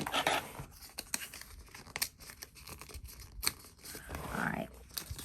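A Gyro-Cut craft cutting tool slices through paper for a planner page in short scratchy and crinkly strokes, close and fairly quiet, with a few brief sharp ticks between the cuts.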